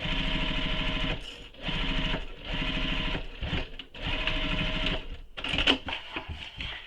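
A sewing machine stitches up the side seam of a Danbury tote bag, running in several steady whirring bursts separated by brief pauses, close and clear.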